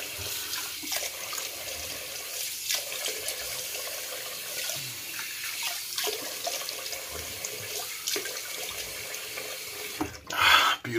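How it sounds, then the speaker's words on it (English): Water runs steadily from a tap into a sink for rinsing after a shave, a quiet continuous splashing stream with a brief louder burst near the end. "Get a rinse off."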